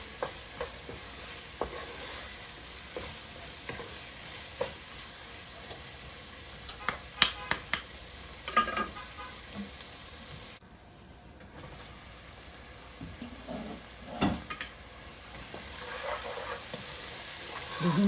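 Chicken frying in a little oil in a pot for an Ethiopian collard greens dish, a soft continuous sizzle with repeated scraping and clattering stir strokes, a short quiet dip midway, and a voice speaking faintly at times.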